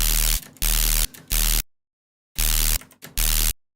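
White noise in an audio mix, with the low end cut, comes in loud, flat bursts of hiss broken by short silent gaps, three bursts and then two after a longer pause.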